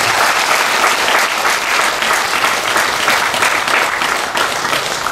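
A large audience at Patriji's Puri DMC spiritual gathering claps loudly and steadily, a dense, unbroken roar of applause from start to finish.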